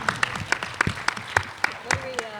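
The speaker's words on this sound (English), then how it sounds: "How about a round of applause?" A convention panel audience at a Power Rangers fan event applauds a cast member named Drew. Scattered, distinct claps ring out over crowd chatter and voices, with a few sharp individual hand claps standing out near the microphone.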